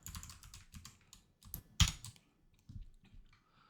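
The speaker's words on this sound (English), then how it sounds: "we have to type in the index formula." Keystrokes on a computer keyboard come in quick, irregular bursts of close clicks with brief pauses between them, with one louder clack near the middle.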